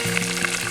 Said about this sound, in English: you might be able to hear this wild pork beginning to sizzle.